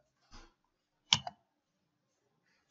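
A computer mouse clicks a couple of times, crisp, close and isolated in near silence while running a QGIS tool.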